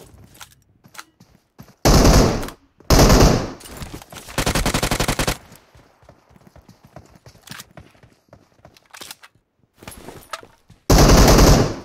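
Several loud bursts of rapid machine gun fire in a shooter video game, each lasting about a second, with one longer rattling volley, between quieter stretches of footsteps and small game noises.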